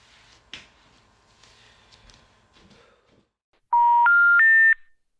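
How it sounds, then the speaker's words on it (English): A telephone number is dialed in a dramatic scene. Faint rustling and handling noises come first, then three loud, clear touch-tone beeps follow in quick succession, each slightly higher in pitch. "The number you have dialed has not been recognized."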